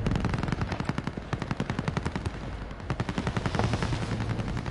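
Rapid gunfire in a video game, dense repeated shots in a fast steady rhythm, loud and continuous, with no talking.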